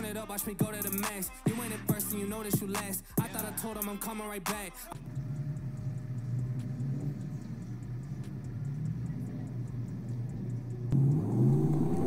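A big Dodge Ram pickup truck engine rumbles and whirs steadily at a motocross stunt show track, close and continuous, rising near the end, after a burst of loud music at the start.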